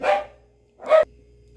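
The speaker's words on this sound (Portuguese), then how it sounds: "cachorrinho tá latindo lá fora" Two short barks from a dog, muffled and somewhat distant, separated by a brief pause over a faint steady hum.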